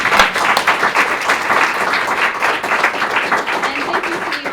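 An audience at an Indigenous entrepreneurship panel event applauds the panelists, with dense, sustained clapping close by that holds steady throughout.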